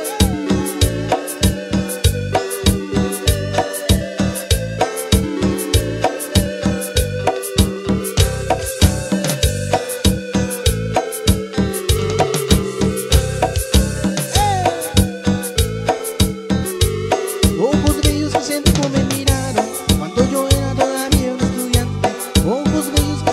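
Electronic keyboard plays a cumbia song live at a street event in Chontla, Veracruz, with a steady driving beat, bass and melody, loud and continuous throughout.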